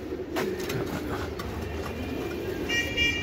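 A male racing pigeon from a loft coos softly and briefly, with light rustling and shuffling nearby and no talking.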